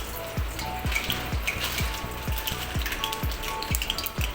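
Four cloves crackle and sizzle in hot oil in a pan while korramenu fish curry is being prepared, with a steady frying hiss and a regular series of sharp pops running throughout, close and fairly loud, with no talking.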